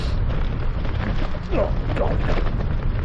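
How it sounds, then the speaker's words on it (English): Strong wind buffeting the microphone on an open road, a constant roaring rush with gusty surges, while someone briefly exclaims over it. "Yeah, that wind is back there."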